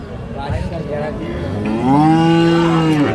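A dairy cow at Ambari cattle market gives a long, loud moo close by, rising and holding steady, with faint background murmur before it.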